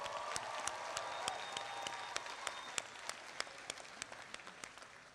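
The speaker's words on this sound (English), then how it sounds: "And I'm sure they will all join me in giving a round of applause to the family and friends who have supported them" Commencement crowd at USC Dornsife's 2022 ceremony applauding family and friends: a steady wash of many hands clapping, fairly distant and even, with a few sharper individual claps standing out.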